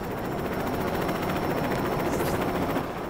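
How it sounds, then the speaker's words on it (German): A helicopter in the video game LEGO City Undercover flies in a steady, dense rotor-and-engine drone, loud and unbroken throughout with no one talking. "die Steuerung des Hubschraubers ist eigentlich ganz okay"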